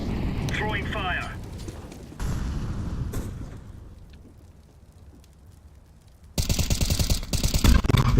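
Incendiary grenade thrown in Counter-Strike, a roaring whoosh and rumbling burn among gameplay noise, ending in a loud crackling burst of fire; voices talk over it.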